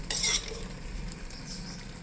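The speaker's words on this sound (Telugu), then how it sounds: "ఇందులోనే కొంచెం జీలకర్ర ఆవాలు తీసేసుకుంటున్నాను ఈ విధంగా ఇవి చక్కగా వేగనివ్వాలి" Cumin and mustard seeds frying in a tablespoon of oil while drumstick-leaf chutney is prepared: a brief sharp sizzling burst at the start, then a quieter steady crackle and stirring.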